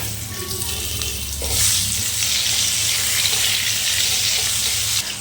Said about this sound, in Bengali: তুলে নেওয়ার পর ওই তেলের মধ্যে ভেজে নেব আমি পটল।